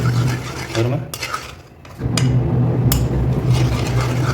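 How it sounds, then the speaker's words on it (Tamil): A utensil scrapes and stirs maida flour in ghee in a pan for sohan halwa, making repeated close, gritty scraping strokes with a brief pause in the middle, over a continuous stove hum. "மைதாவை போட்டு கிண்டிக்கிட்டே இருக்கணும், விடக்கூடாது அப்படியே"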